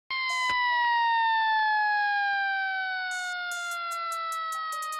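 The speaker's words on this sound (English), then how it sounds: "And at exactly 4:23 p.m, the first siren goes off." A siren sounds loud and close in a long, slowly falling wail. Sharp bursts of clicks and beeps break in at the start and again as a rapid series near the end.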